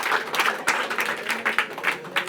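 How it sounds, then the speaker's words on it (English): Audience applause at a Climathon Bratislava awards event, a moderately loud, uneven round of clapping with distinct individual claps pulsing through it and no speech over it. "Another round of applause. We'll be clapping a lot."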